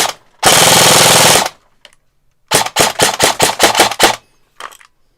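An airsoft gun empties a magazine in bursts: one long, loud, sustained roar of rapid fire, a pause, then a string of about eight quick, sharp bursts close by, with no talking.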